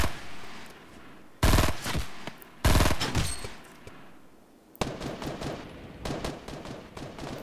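Gunfire in Fortnite Mobile, sharp repeated shots and rapid automatic bursts from the game, loud and close, in several spaced volleys over steady background game noise.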